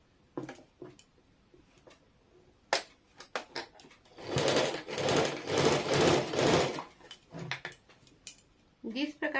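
A close sewing machine stitches a palazzo pant seam in one sustained rhythmic run lasting a few seconds, with scattered clicks and handling knocks around it.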